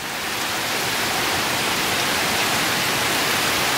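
Heavy rain pours down outdoors in a dense, loud, continuous roar that holds constant throughout.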